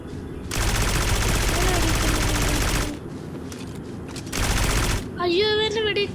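Automatic gunfire in the video game Aurorio comes in two dense sustained bursts, the first about two and a half seconds long and the second shorter, followed by a voice.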